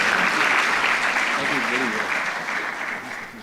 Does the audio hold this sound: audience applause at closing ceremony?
yes